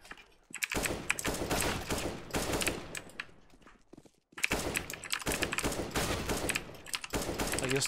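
AK rifle fire in CS:GO, rapid bursts of sharp shots in quick succession, loud and close, with a brief pause midway before another sustained burst.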